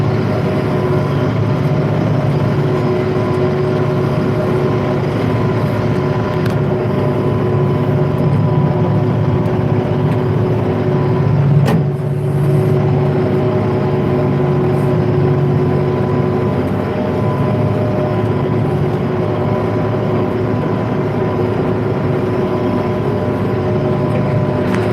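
A Versatile 895 tractor pulls hard while seeding wheat, its engine giving a loud, steady, close drone with a low rumble and a constant tonal hum throughout, and one brief knock about midway.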